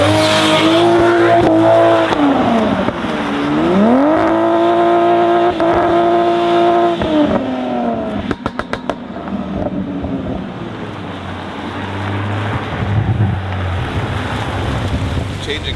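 A car drives around cones on slippery ground, its engine revving and shifting gears on its own. The pitch sweeps up and down, with a brief stutter of clicks partway through, then fades into loud, steady wind rumble.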